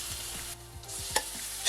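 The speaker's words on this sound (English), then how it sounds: "Stir fry for a minute" Chopped onion and grated carrot stir-fry for Wai Wai gujiyas, a dense continuous sizzle close by with a couple of sharp utensil scrapes near the end, no voices.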